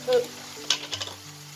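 Chicken filling seasoned with paprika is stirred in a pan over high heat, a sizzling hiss under a few quick scrapes and knocks of the utensil against the pan.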